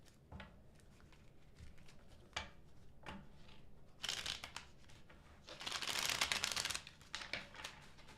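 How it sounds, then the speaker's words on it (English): Tarot cards being shuffled by hand, a run of soft papery riffles and taps that swells into a denser, louder burst of shuffling near the end, close and with no talk. "Last shuffle."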